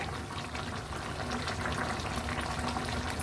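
A continuous, dense bubbling and hissing of a dried fish curry boiling hard over a high flame, steady throughout with no voices.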